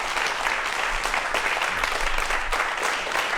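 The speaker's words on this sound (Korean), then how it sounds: "큰 박수로 환영해 주십시오." A studio audience claps steadily to welcome two guests onto a Korean talk show about virtual reality, a dense wash of applause that holds at an even level throughout.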